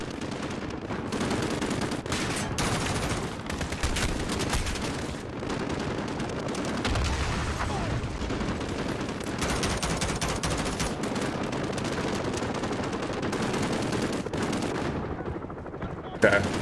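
Machine gun fire in the video game Call of Duty: Modern Warfare, sustained dense bursts of automatic gunfire with heavy impacts and explosions, loud and continuous throughout.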